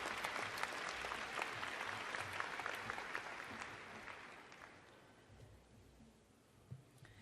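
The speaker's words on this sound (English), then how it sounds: "Let's give them a round of applause again for being here supporting you." Applause fills a university engineering school spring commencement ceremony, a broad wash of clapping that gradually thins and fades toward the end, leaving a few scattered claps and faint room noise.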